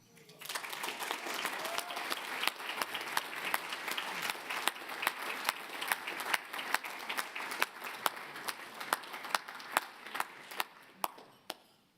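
Audience applause at the WA Mining Club Scholarship Awards as the winner is named, a steady, dense wash of clapping from a large crowd with a few sharp individual claps standing out, sustained for several seconds then tapering.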